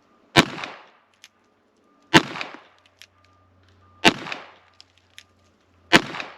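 Four sharp handgun shots fired from the hip, evenly spaced about two seconds apart, each loud and close with a brief ringing decay, and small clicks between the shots.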